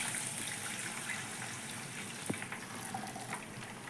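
Water gushes steadily into a pot of browned chicken biryani, a faint, continuous pour heard on its own without talk.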